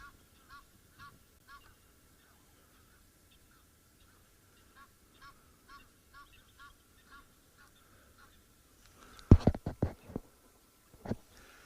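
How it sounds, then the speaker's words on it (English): Egyptian geese call from a distance at a sunrise safari waterhole: a series of faint, evenly spaced honks, then a louder cluster of harsh honking near the end. "The Egyptian geese, as always. You know, they're always in full vocals, full song here"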